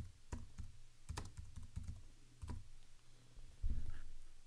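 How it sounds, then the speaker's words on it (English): Typing on a computer keyboard, entering a job search term: irregular bursts of close key clicks and clacks with short pauses, ending in a louder, heavier keystroke, with no voices. "Let me type that in."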